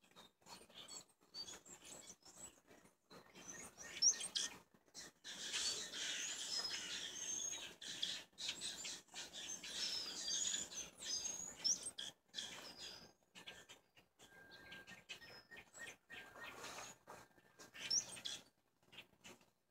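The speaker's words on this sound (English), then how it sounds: "A couple of birds fighting in a tree." A pair of birds squabble in a tree, sharp high chirps and scolding calls coming in irregular bursts over a quiet background, fairly close and moderately loud.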